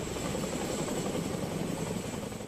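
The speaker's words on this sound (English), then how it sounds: "Military helicopters are flying aid to isolated communities near the epicenter." Military helicopters flying aid near the epicenter of an earthquake in Morocco give a steady, fairly faint rotor and engine drone that holds evenly throughout, with no voices.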